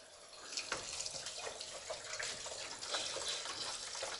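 Water running from a hose at full blast onto a standing seam metal roof, a steady broadband hiss and gush with slight splashing fluctuations, close and continuous, no talk.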